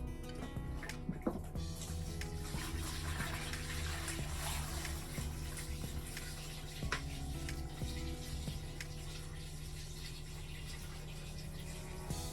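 Room-temperature water pouring and splashing into a portable washing machine, a steady running-water rush with small drips and clinks, moderately quiet and with no voices.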